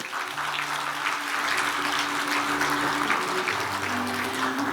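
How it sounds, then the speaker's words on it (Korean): Audience at the 66th 3·1 Culture Award ceremony clapping in thanks to the judging committee; an even, sustained round of applause filling the hall, with a low musical drone running underneath. "심사위원회의 노고에 감사의 박수를 부탁드리겠습니다"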